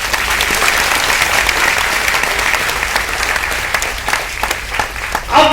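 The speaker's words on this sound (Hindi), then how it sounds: "एक बार ताली बजा के दिखाओ एक बार" A seminar audience claps loudly and continuously for about five seconds in a dense, even roar of hands that trails off just before a voice cuts in at the end.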